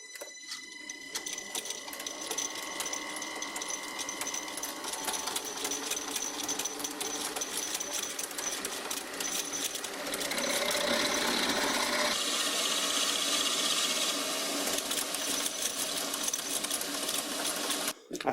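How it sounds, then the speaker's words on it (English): A drill turns a spade bit as it bores into scrap metal, giving a steady whirring grind with a rasping edge that shifts pitch partway through and runs continuously, close and unaccompanied. "I found a spade bit that fit the drill chuck"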